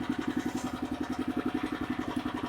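Small engine of a rotary tiller cultivating soil, chugging steadily with a fast, even pulsing thump, close and continuous.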